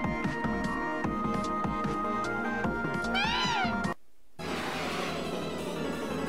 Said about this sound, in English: There's that cat thing again.